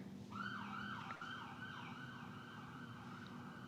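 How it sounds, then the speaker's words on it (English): A distant emergency siren wails with a steady rising and falling sweep, fairly faint over low background rumble, running throughout without any talk. "It was a well-timed siren there"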